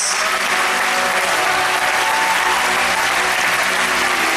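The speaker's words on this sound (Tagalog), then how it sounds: "malakas na palakpak sa Panginoong Diyos" A church congregation claps loudly and continuously, a full, dense wall of applause filling the room without pause and without any talk over it.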